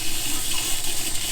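Hot water runs steadily from an RV faucet, a close, continuous hissing splash with no breaks and no voices.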